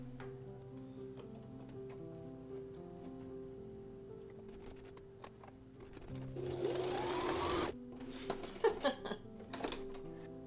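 Sewing machine stitching a buttonhole at a long stitch length of 4 runs in a quick mechanical chatter for a few seconds, then stops, followed by faint clicks and handling noises.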